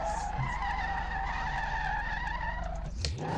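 A car skids and brakes hard in the Street Legal Racing: Redline driving game, with a steady engine drone and tire noise running throughout and a sharp burst near the end.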